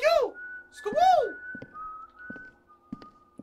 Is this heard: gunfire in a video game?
no